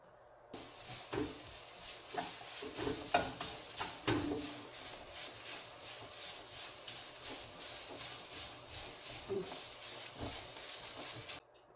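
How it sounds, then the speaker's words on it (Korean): Ham for gimbap is stir-fried in a pan, a quiet, steady hissing sizzle that begins abruptly and runs throughout, with scattered soft scrapes of stirring and no voices. "다음에는 햄 볶을게요."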